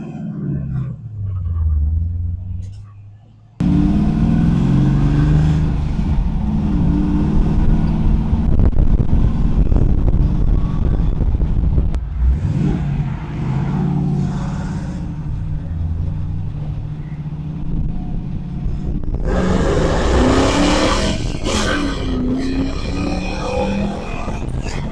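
A 1971 Chevy Chevelle restomod muscle car rumbles out on a drive, its engine note swelling into a loud, sustained roar after a quieter idle, with a further rise in revs toward the end.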